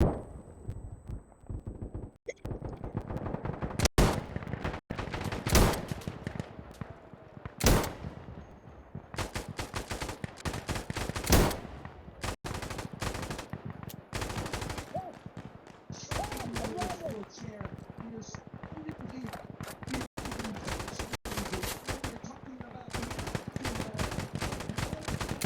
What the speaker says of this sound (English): I shot the same body I shot 15 bullets into. I came back. I put a couple more into him.